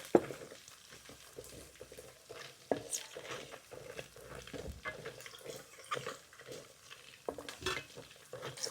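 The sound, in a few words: garlic frying and being stirred in oil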